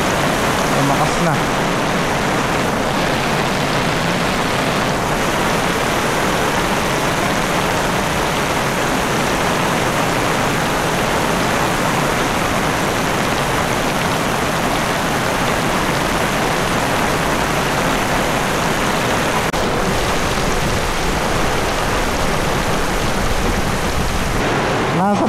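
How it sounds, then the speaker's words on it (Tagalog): Heavy rain pours steadily over a bitter gourd garden, a dense, loud, unbroken hiss that lasts throughout with no pauses. "Nasa 15 minutes pa lang ang ulan."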